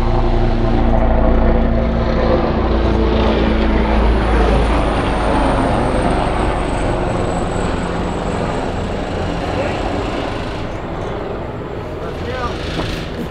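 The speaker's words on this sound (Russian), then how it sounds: "Вертолет." A helicopter's steady, droning rotor and engine roar passes overhead at a log house construction site, loud at first and slowly easing off, while people talk intermittently nearby.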